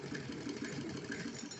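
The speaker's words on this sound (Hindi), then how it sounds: "और सिलाई को अच्छे से पक्का कर लेंगे।" A sewing machine stitches a cotton strip onto a small fancy dress, giving a steady close motor whir with a fast, even mechanical pulse throughout and no voices.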